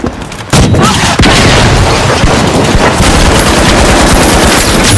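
A frag grenade is thrown during a fight in The Finals, its loud boom buried in dense, continuous gunfire and blasts that fill the whole stretch with near, chaotic combat noise.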